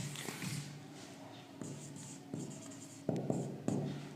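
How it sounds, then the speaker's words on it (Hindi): Chalk or marker scratching a classroom board while a question is written up, in short strokes and taps with pauses between them, fairly quiet and close, with no talking. "मैं आप लोगों के सामने क्वेश्चन को लिखता हूँ"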